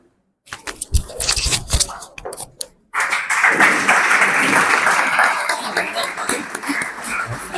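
A Zoroastrian Jashan ceremony audience at the M.J. Wadia Agiary breaks into applause: a few scattered claps and taps at first, then after a brief pause a full, dense round of clapping that carries on steadily.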